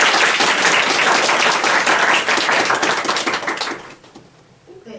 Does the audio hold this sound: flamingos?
no